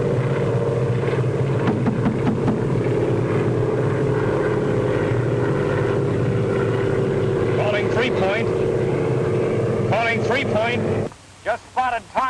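A propeller airplane drones steadily overhead while coming in to land, a loud continuous engine hum with voices speaking over it toward the end before the sound cuts off abruptly.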